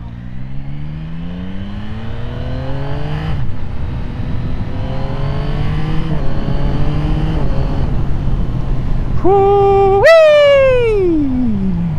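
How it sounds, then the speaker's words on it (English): Yamaha MT-09 SP, a 2024 model, revs hard with rising engine harmonics, then quick-shifts through gears with brief dips, ending in a sharp high rev spike and a falling drone, loud and close with no talking. "just giving it a good rev and then off shifting with that quick shifter"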